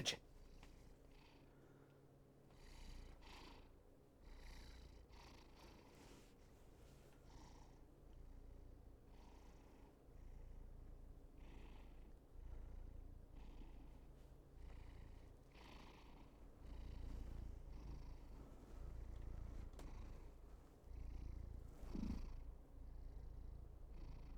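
A white cat purrs steadily and close up, a soft rhythmic rumble that pulses with each breath for the whole stretch, with no talking.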